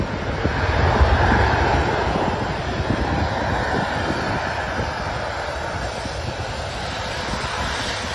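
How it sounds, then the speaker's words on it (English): Jet engines of an Airbus A330-300 roar loudly during a rejected takeoff after an engine failure, a broad sustained rush with wind noise that swells early then holds steady. "Cathay Pacific Airbus A330-300 rejects. Take off after engine failure."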